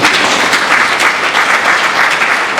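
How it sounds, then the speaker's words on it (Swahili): Mourners at the funeral of Professor Seraphina Nombo break into sustained, dense applause, a loud steady wash of many hands clapping together throughout. "naomba tujipigie makofi"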